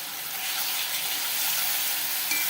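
Ground masala sizzles in a pan for a brinjal rassa curry, a continuous close hiss of frying that stays even and grows slightly louder, with a brief clink near the end.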